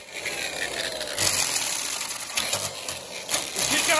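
An angle grinder whirs loudly with an uneven, wobbling rattle and repeated surging bursts as a warped 3M cutting disc flops around against the work.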